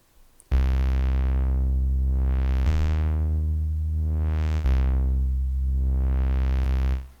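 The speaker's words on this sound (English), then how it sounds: "this is what it sounds like with a normal low-pass filter sweep" Basic default synth pad held as a sustained chord while a low-pass filter sweeps slowly open and closed in repeated arcs, the brightness rising and falling over several seconds, steady and loud with no voices.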